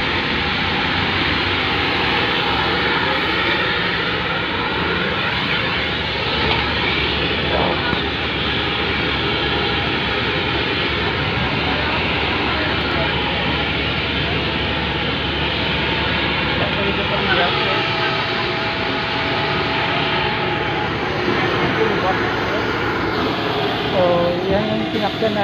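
A steady broadband roar of aircraft engines fills a nighttime scene at Hamad International Airport, continuous and loud throughout with no clear rises or pauses.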